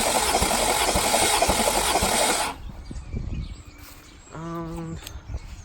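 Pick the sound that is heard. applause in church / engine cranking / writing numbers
engine cranking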